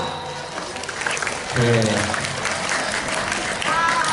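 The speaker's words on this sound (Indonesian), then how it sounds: "Tepuk tangan untuk kepala sekolah." Audience applause for a school principal at an Isra Mi'raj commemoration gathering, a steady wash of clapping with a voice speaking over it midway.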